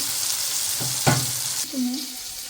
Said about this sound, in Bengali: এবার সব বেগুন দিয়ে দিছি আর বেগুন আমরা ভেজে নই